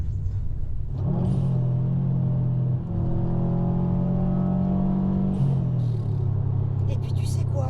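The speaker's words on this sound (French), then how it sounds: "Oh oui, c'est bon ce petit coup de gaz." Subaru Impreza WRX STI engine given a burst of throttle, a deep rumble rising into a held, throaty rev and then easing back down to idle, close and loud.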